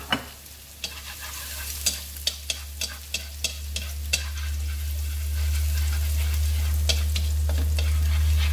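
Minced onion and garlic hit hot oil and sizzle steadily, with sharp scraping stirs of a utensil in the pan repeating through the first half, then a continuous fry.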